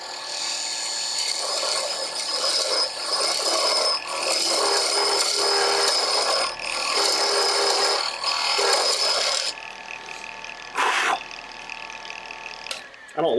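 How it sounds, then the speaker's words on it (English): A woodturning tool cuts into a spinning wooden bottle stopper on a lathe, a continuous scraping, rasping hiss with steady motor hum that stops abruptly near the end, with a voice talking over it. "I don't love just pushing the tool like straight in like that"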